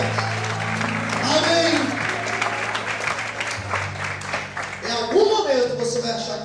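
Applause in a church service, scattered clapping from the congregation beneath a preacher's continuing voice and sustained organ or keyboard chords, with the voice rising in emphasis near the end.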